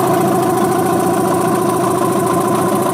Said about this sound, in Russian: Двигатель работает на холостом ходу.